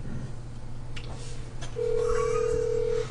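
A telephone call being placed, with a steady ringback tone sounding over a low room hum in the second half and faint voices in the background.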